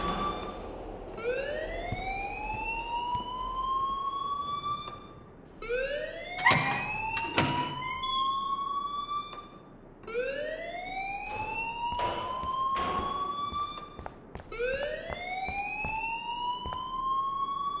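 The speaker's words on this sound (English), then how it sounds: "please turn off that alarm since that's your job" A building alarm in the video game Life is Strange wails in repeated rising sweeps, loud and continuous, cycling about every four seconds with sharp clicks between.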